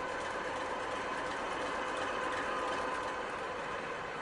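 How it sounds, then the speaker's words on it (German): An old Kolomna diesel engine in a Ludmilla diesel locomotive, rated at a thousand horsepower, runs with a steady, dense mechanical roar and hum, constant and unbroken throughout. "Auch diese Lok hat noch einen alten Kolomna-Motor."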